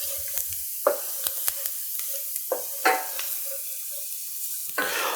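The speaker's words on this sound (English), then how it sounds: "We just want to stir this for a few moments to cook off that raw flour taste." A roux of flour, vegetable oil and butter is stirred in a pan, with soft scraping strokes and a light sizzle, plus a few sharper clinks of the utensil against the pan.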